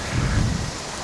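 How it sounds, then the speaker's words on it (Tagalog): Strong wind buffets a campsite at night, a steady loud low roar with gusty rumbling and microphone buffeting throughout, no voices. "sobrang lakas ng hangin"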